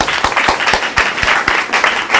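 A small group claps together in a classroom-style session, a steady patter of hand claps with a few sharp, louder claps standing out at a regular beat, close and filling the whole stretch.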